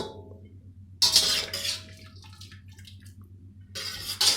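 Boiled eggplants emptied into a bowl of cold water for a dried-eggplant dolma recipe, heard as two close bursts of splashing and gushing water separated by quieter dripping, over a faint steady hum.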